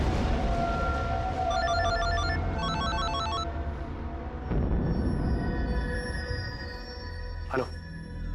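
A telephone rings with repeated electronic trills in two bursts over a dense, loud background of music and ambient noise, with no talk over it.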